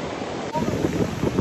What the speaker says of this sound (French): on est au mois de juillet, il est venteux